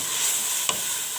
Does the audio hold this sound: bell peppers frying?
yes